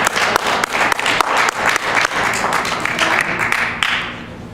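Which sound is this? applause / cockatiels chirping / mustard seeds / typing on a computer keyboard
applause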